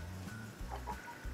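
Backyard chickens cluck softly and intermittently while a mobile coop is being moved, several short low calls close by under a steady low hum.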